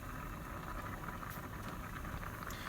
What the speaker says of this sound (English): So you can hear the pasta boiling.